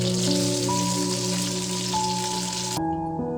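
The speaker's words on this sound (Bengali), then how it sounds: "এখন আমি আলুগুলো ভেজে নিব।" Potatoes frying in oil in a pan, a dense, steady sizzle that stays loud and continuous before cutting off abruptly near the end, with no talking.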